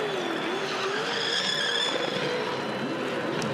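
A Supercars Championship race car does a burnout at Hamilton, its engine roaring steadily while the tires squeal in a loud, wavering whine that carries on from start to finish.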